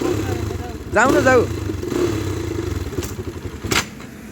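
A dirt bike ridden by a first-time rider, its low engine rumble running throughout with clattering knocks and a brief rising whine near the start, while voices talk nearby.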